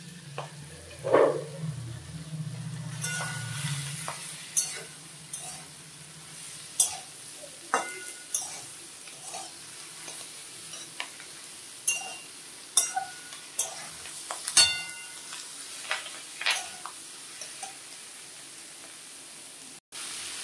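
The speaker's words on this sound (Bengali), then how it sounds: "এখন আমি কাঁঠালের বিচি আর চিচিঙ্গাগুলো একসঙ্গে দিয়ে দিলাম।" Jackfruit seeds and snake gourd frying in a pan give a soft, faint sizzle with occasional stirring clicks and scrapes, steady and close, with no voices.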